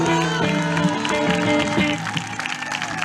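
Audience applause for a drummer at a live band performance, clapping mixed with lingering sustained musical tones at first, then the clapping continuing on its own as the music fades.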